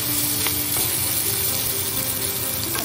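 Chicken sausage frying with green beans in a pan, a steady close sizzle with faint scraping stir sounds and small clicks.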